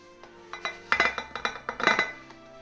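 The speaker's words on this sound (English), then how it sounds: "And then I'll pop my flour and sugar in." Flour and sugar go into a bowl while making a Breton far-style strawberry dessert, giving a quick run of light clinks and taps against the bowl, close and fairly quiet, with no talk over them.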